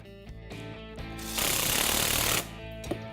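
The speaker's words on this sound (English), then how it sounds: "now we can tighten these up with the socket extension, the 14mm socket" On a 1994-2000 EZGO TXT golf cart, the steering box bolts are tightened with a 14mm socket on an extension, and a loud mechanical burst of about one second rises over a humming background.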